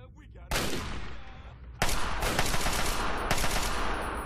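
Turret fire in Fallout 3, with loud, close bursts of rapid gunshots that start abruptly and then continue in heavy, sustained volleys.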